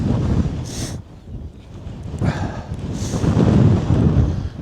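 Strong gusts of wind on a hillside at Cross Fell, England buffet the microphone in a steady rumbling roar, rising and falling, with a couple of brief higher whooshes.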